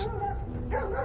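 Dogs bark near a road at Pico do Jaraguá in São Paulo: two short, nearby barks a moment apart over a faint background, with no people talking.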